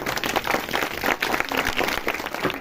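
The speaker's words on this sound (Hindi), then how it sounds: "सब लोग ताली बजाएंगे।" Crowd applause greeting a preacher at an open-air Christmas service at a prayer hall in Rabale, steady dense clapping from many hands filling the space throughout.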